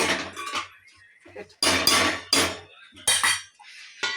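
A lid is set on a cooking pan of gongura, with several sharp metallic clanks and rattles coming in short bursts, close and loud, with quiet gaps between them and no speech.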